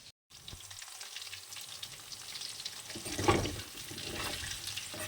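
Chicken pieces fry in a pan with steady crackling sizzle and occasional stirring, growing louder toward the end with a brief louder burst around the middle; no one talks.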